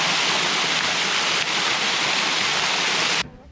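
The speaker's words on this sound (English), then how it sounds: "I am getting a pretty good trickle right here." Water trickling and splashing along a trail near the remains of the Ocoee White Water Center, a steady close hiss of flow that cuts off abruptly near the end.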